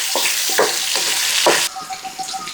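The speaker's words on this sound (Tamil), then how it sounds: "ஆயில் ஹீட் ஆகிருச்சு கட் பண்ணி வச்ச நாக்கை போட்டுக்கிறோம் சாட்சியில் ஒட்டாமல் கொஞ்சம் நல்லா மிக்ஸ் பண்ணிக்கோங்க" Pieces of beef tongue fry in hot oil in a pan and are stirred, giving a loud, steady sizzle with scraping strokes close by that fade into quieter crackling.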